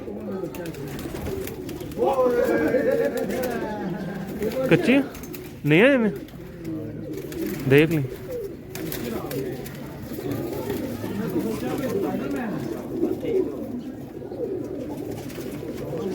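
Pigeons coo in soft throaty bursts, with occasional wing flutters, while people talk nearby.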